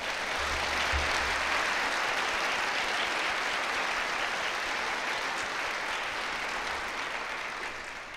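An audience at a university graduation ceremony applauds its honoured guests with sustained, dense clapping that fills the hall at an even level and then fades slightly at the end.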